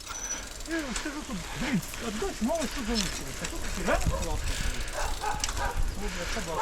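A dog barks repeatedly in quick bursts outdoors, with people talking over the barking and some background noise.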